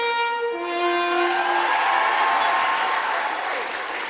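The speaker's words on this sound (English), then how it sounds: "let's give him a round of applause for being here and joining us" Concert audience applause at a video game music concert, rising as the final sustained chord of the orchestra fades out, then continuing as a broad, steady clapping.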